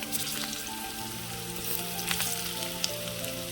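Thinly sliced boiled potatoes fry in a curry base of cumin and ginger-garlic paste for puri curry, giving a steady close sizzle with small crackles throughout and no talking.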